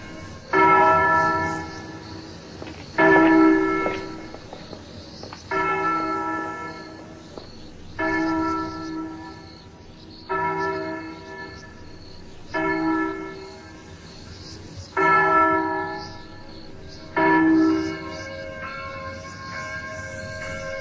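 A church bell in a small town rings on its own while its rope stays still, sounding about eight slow, evenly spaced resonant strokes, each ringing out and fading before the next.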